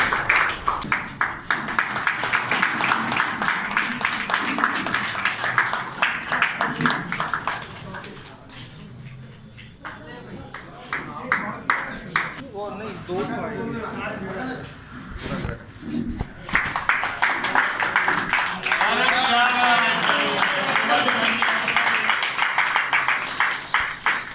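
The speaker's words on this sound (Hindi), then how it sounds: "अच्छा लगे सभी तालियां बजाएं" An audience at a welcome for a BJP state vice-president in Dongra Ahir claps loudly in sustained rounds, dropping to a lull with talk and cheering in the middle before the applause swells again.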